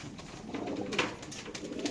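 A pigeon coos softly at a racing pigeon farm, a couple of low throaty murmurs, close but faint, with no talk.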